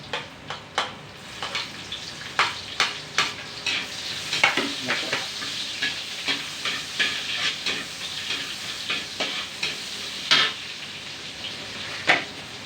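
Garlic and onion sauté in a pan, with a soft sizzle underneath and repeated sharp scrapes and clacks of a utensil stirring at an uneven pace.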